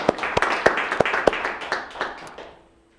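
An audience of a small Python meetup claps for a sponsor, a short burst of mixed hand claps, close and lively, that thins out and fades to quiet after about two and a half seconds.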